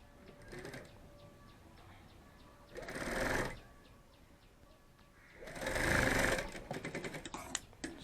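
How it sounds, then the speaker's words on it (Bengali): A sewing machine stitching a bag runs in two loud bursts of whirring, one short and one longer, with quieter handling and faint bird chirps in the pauses between. "সেলাই হয়ে গেল।"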